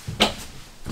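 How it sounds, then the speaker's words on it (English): An RV kitchen cupboard in a 2021 Grand Design Solitude 390RK fifth wheel gives a single short knock as it opens or closes, close and fairly loud, with no talking. "Cupboards."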